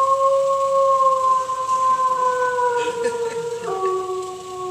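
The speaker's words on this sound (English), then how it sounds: "a haunting heathland howl" A long, eerie hound howl drifts across a misty Dartmoor heath as a radio-play sound effect, several sustained wavering tones sliding slowly downward together, loud and continuous with no voices.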